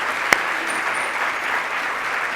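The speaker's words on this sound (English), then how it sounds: "Let's give them a round of applause." A crowd applauds steadily at an outdoor groundbreaking ceremony, a dense even wash of clapping with one sharp louder clap near the start, sustained throughout without voices.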